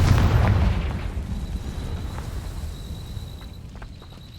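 Explosive spell blasts from the Hogwarts Legacy video game, a heavy boom at the start that decays into a rumbling tail, with a few faint pops and light footsteps following.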